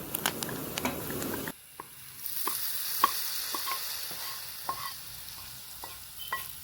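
Fried shallots tipped into a green peas curry: steady crackling sizzle at first, then a sharp drop to a quieter, wetter bubbling with scattered pops and light stirring clicks, close and alone.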